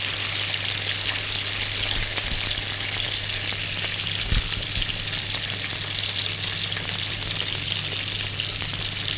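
Curly fries frying in hot oil in a home kitchen, a steady, dense sizzle and crackle that stays loud and even throughout, with no voices.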